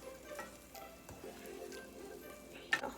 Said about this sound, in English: So as our butter and sugar melt together, we're gonna keep stirring this constantly.